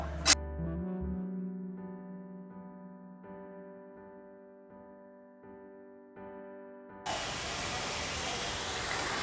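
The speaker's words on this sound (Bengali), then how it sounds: "এই পেঁয়াজটা আমি বেরেস্তা করে নেব।" Sliced onion frying in oil to make crisp golden beresta for a cauliflower bharta: a loud, steady hiss bursts in near the end, after a long electrical hum with soft ticking.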